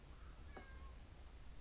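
A cat inside a house gives a single clear meow, rising then falling, heard alone against a quiet room background.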